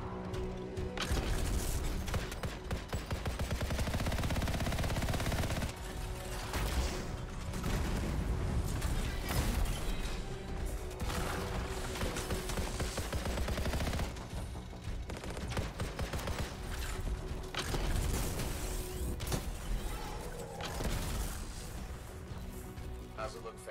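Sustained enemy gunfire and explosive bursts in the Anthem video game battle, dense rapid shots and mechanical clatter running continuously and loudly throughout, with occasional brief dips between volleys.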